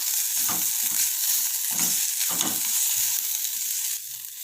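A washed handful of coriander leaves is lightly sautéed with masala in a pan, giving a steady close sizzle broken by several soft stirring scrapes, with no talking.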